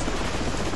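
A helicopter in Call of Duty Modern Warfare Reflex gives off a dense, constant rotor and engine roar, loud and close, in a brief burst with no talk.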